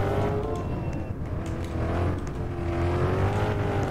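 A car drives steadily in the Roblox NYC hood game, its engine giving a continuous, fairly loud droning hum with a slight rise and fall in pitch throughout, with no talking.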